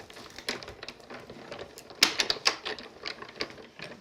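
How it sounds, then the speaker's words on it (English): A die cutting machine for card crafting works through a cut, a series of uneven ratcheting clicks and taps, close and moderately loud, with no voices. "the die cutting machine."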